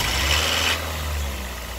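A Nissan Altima 2.5 liter engine, leaking and burning oil, runs at a steady low rumble after starting, with a brief brighter burst at the start before settling into an even, close idle.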